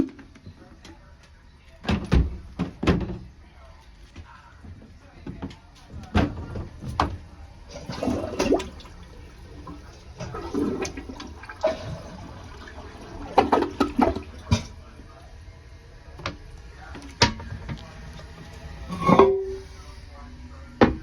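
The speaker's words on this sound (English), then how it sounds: "I was able to get a flush on the toilet" A Kohler toilet with a canister seal flushes, then its tank refills with running water for a long stretch, close and moderately loud, with occasional knocks and clatter from handling the tank.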